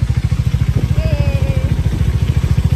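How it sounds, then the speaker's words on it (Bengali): Motorcycle ridden on a wet, muddy road after rain, its engine thumping in a fast steady pulse up close and loud, with faint high whistling over it. "এখন বেরিয়ে পড়েছি, বাইকে আছি"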